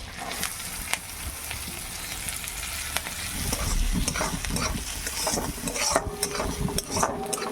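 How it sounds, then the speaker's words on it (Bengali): Chopped garlic and onion fry in oil and butter for a butter-cream prawn dish, a loud, close sizzle that swells midway as the pan is stirred, with occasional utensil taps and no speech. "এবার আমি এখানে কুচনো রসুন আছে, সেই রসুনগুলো দিয়ে দিচ্ছি, আর কুচনো পেঁয়াজ।"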